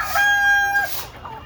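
A chicken lets out a loud, drawn-out call close by, trailing off into softer clucking.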